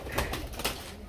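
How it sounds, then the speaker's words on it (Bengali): Pigeons sold as hand-flight birds coo softly at close range, with a few short, low throaty pulses and a faint knock at the end. "এটা হচ্ছে হাতবাজি কবুতর"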